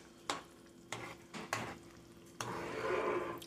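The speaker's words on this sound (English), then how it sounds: "And the onions are softening up. Softening up. And just let it simmer for a little while longer." Onions soften in a pan of butter sauce, a low steady sizzle broken by several sharp clinks of a utensil against the pot, the simmering growing fuller toward the end.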